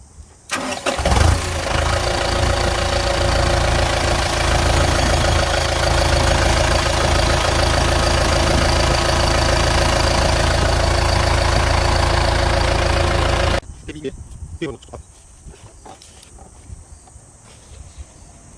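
A vehicle engine being repaired on a service call cranks and catches, then runs loud and steady at idle for about twelve seconds before cutting off, leaving quieter shop noises.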